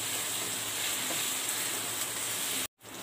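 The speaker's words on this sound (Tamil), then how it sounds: "இதெல்லாம் நல்லா வதங்கட்டும்" Onion, ginger and garlic sauté in a pan, a continuous close sizzle that holds steady and then cuts off abruptly near the end before returning briefly.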